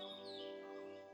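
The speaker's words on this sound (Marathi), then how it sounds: "स्कारलेट मिनिवेट." A scarlet minivet calls faintly in dense Kaziranga forest, with a brief thin chirp over a quiet, humming background.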